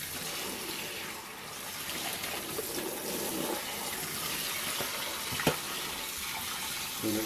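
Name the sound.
tap water running in sink, rinsing eggfood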